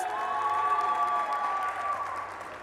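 A live esports crowd at a Tekken 7 Nations Cup event roars and applauds loudly in a big venue, a dense sustained wash of cheering and clapping that slowly fades toward the end.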